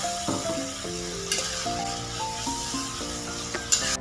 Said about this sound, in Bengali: দুটো কাঁচা লঙ্কা দিয়ে দিলাম, একটু জল দিয়ে দিলাম, গরম জল